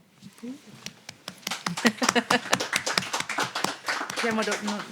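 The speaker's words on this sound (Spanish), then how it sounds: "Me emociona que aplaudan, no lo hagan." An audience at a poetry reading claps in a brief, uneven burst, while a voice speaks over the applause.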